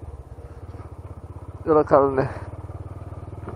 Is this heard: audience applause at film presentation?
no